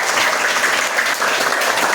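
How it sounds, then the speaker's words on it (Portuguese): A church audience bursts into dense, continuous applause: many hands clapping close and loud for a couple of seconds without pause. "Dê uma salva de palmas"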